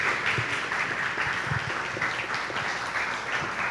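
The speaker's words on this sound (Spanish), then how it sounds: "¿Se merecen o no un fuerte aplauso a nuestros dos invitados?" Audience applause for two guests at a radio creativity talk, a dense, steady wash of clapping that holds at even loudness throughout, fairly close and with no voices over it.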